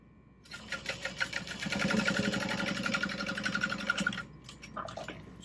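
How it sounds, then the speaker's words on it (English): A sewing machine back stitching a tote bag seam, a close rapid mechanical whirring burst that speeds up, runs steadily for a few seconds, then stops with a few faint clicks. "Back stitch over that."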